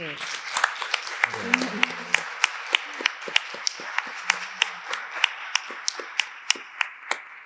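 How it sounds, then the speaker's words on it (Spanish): Audience applause after a talk at a history museum, with sparse sharp claps that settle into a steady rhythm of individual hand claps, fairly close, over a soft murmur of the room. "muchas gracias a Elena, a Nicolás, pido un aplauso para ellos."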